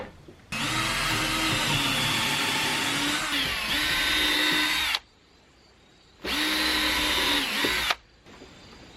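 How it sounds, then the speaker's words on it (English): A power drill whines loudly drilling holes in wood in two bursts, a long run of about four seconds and then a shorter one, separated by a brief pause. "that should give me a clear indication of where the drill holes will be"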